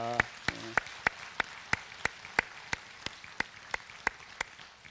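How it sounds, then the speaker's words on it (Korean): A church audience welcomes guests at a Sunday morning service with rhythmic, unison clapping, around fifteen crisp claps at a steady pace, preceded by a brief bit of speech. "우리 박수로 환영하겠습니다."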